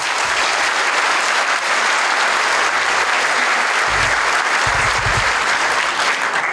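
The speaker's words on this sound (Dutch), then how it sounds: "Dames en heren, een groot applaus." A seated audience at a farewell gathering gives a big round of applause, steady and loud clapping from many people throughout, with a few deeper thumps near the end.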